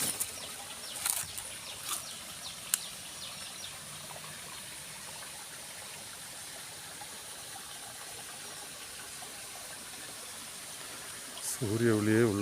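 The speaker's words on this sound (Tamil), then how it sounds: "இந்த தண்ணி பாயுது" Forest stream in the hills flowing with a steady, soft rush of water throughout, a few brief bird-like chirps early on, and a voice speaking briefly at the end.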